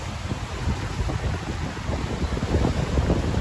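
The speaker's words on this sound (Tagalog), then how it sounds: "Ang lakas ng hangin." Strong typhoon wind roars continuously and gusts hard against the microphone near a bridge, a dense low rumble that grows slightly louder toward the end, with no speech.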